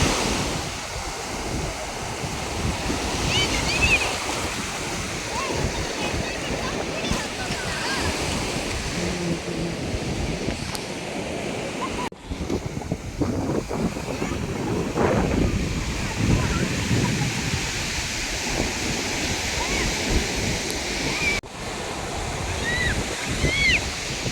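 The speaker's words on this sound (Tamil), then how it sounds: "கடல்கிட்ட ரொம்ப ஜில்லுன்னு காத்தடிக்குது." Sea waves wash in continuously at Besant Nagar Beach in Chennai while strong wind buffets the microphone, making a loud, rushing roar that swells and ebbs, with faint talk mixed in.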